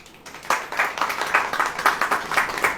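Congregation clapping during a Hindi sermon, rhythmic group claps in a steady, regular beat, fairly close and clear with no talk over them.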